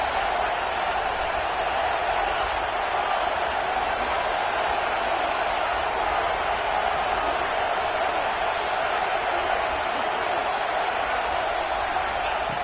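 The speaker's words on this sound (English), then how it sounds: "the crowd really making some noise now" A football stadium crowd at an Ole Miss college game roars steadily near the goal line, a dense, continuous wash of cheering noise with no clear breaks.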